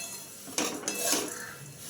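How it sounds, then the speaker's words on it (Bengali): Thin flattened rice (poha) is fried over low heat in a pan, heard as a short burst of quiet scraping and utensil clinks against the pan, with no one talking. "একদম হালকা আঁচে সুন্দর করে ঝরঝরে করে চিড়ে ভাজতে হবে"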